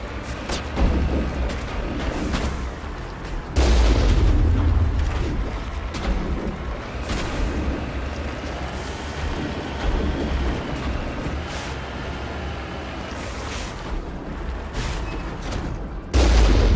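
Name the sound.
gunfire and explosions in combat, from video game Mass Effect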